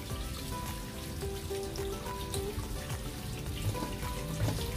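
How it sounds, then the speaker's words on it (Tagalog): Running tap water pours steadily over bangus milkfish being washed in a sink, a dense continuous splashing with small clinks and knocks throughout. "running water ulit ang paraan ng paghuhugas"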